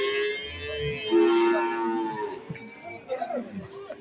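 A cow lows a drawn-out moo at a village cattle market on a riverbank while livestock is unloaded from a vehicle, with faint crowd murmur and shuffling around it.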